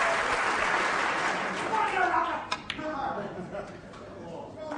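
Crowd applause at the Crucible snooker final, steady dense clapping that slowly fades, with a few sharper individual claps near the end.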